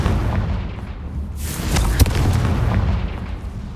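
Confringo blast spell cast in a Hogwarts video game, a loud booming explosion burst swelling midway with a sharp crack, then rumbling decay.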